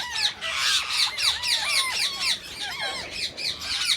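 Indian ringneck parrots, yellow birds in breeding boxes, give a rapid series of loud, harsh squawks and chirps close by, repeating without pause.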